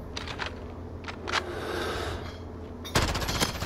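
Gunfire in a first-person shooter video game: rapid bursts of automatic shots, then a quieter stretch, then a sharper close shot followed by a few more bursts, at moderate loudness with no speech.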